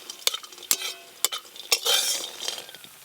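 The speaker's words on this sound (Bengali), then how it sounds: "বড়িগুলো ভাজা হয়ে গেল।" Bori lentil dumplings fry in mustard oil while a spatula scrapes and clinks sharply against the pan several times, with a soft sizzle underneath.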